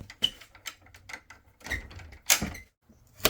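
Pocket doors in a 2003 Magna RV slide shut and latch, giving a series of close clicks, knocks and sliding thuds with a few sharper locking snaps.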